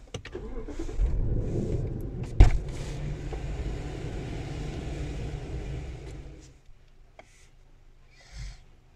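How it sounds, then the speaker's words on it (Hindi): A Toyota or Lexus car with a VGRS steering fault code starts up and idles with a steady low rumble for several seconds, then shuts off, followed by a brief faint mechanical sound. "अब गाड़ी स्टार्ट करने के लिए कह रहा है।"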